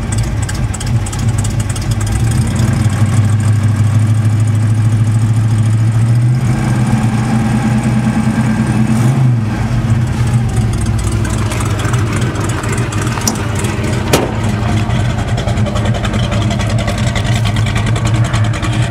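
A 1969 Ford Mustang Mach 1 fastback with a 302 four-barrel V8, true dual exhaust and full-length headers with a slight exhaust leak idles steadily and close by, a low continuous rumble throughout.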